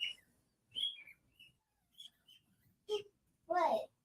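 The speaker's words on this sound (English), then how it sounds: "I have to cover the birds." Pet birds chirping and calling indoors, loud bursts of bright tweets and whistles repeating in short clusters, with a louder warbling call near the end.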